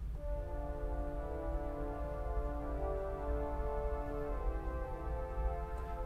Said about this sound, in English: And an angel voice, 8 foot as well.